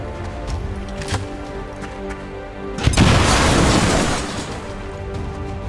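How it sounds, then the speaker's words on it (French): In the game XCOM 2, a grenade detonates with a loud, booming blast that swells and rolls for about a second, heard over an ongoing game soundtrack and ambient hum. "Grenade!"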